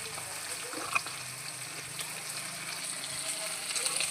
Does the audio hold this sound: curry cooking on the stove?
yes